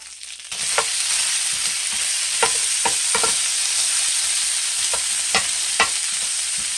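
Beef sizzling loudly on a hot burner of a Grill Boss dual-fuel grill, indoors, a constant hiss broken by a handful of sharp pops and crackles at irregular intervals.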